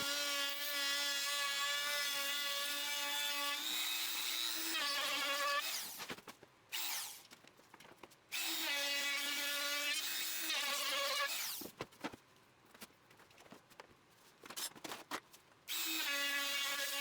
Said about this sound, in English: Next, I route the edge with my palm router.